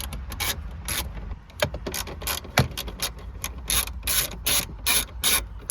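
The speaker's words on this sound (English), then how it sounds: "We need a 10 millimeter socket to remove this one and this one." A socket ratchet loosens 10 mm bolts on the dash of a 2002-2006 Toyota Camry, with close, loud bursts of rapid clicking that stop and start repeatedly and no talk.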